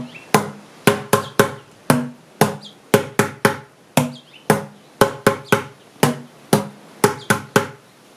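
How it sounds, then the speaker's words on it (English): Hands clapping in a cha-cha-cha pattern against recycled drum and percussion: crisp, close claps in repeating groups of three, evenly spaced, clear and alone with only faint background. "Now just clap your hands on cha cha cha."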